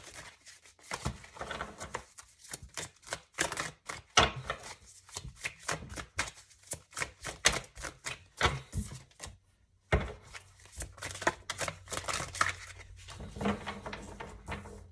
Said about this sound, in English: I'll go ahead and put them back and continue shuffling.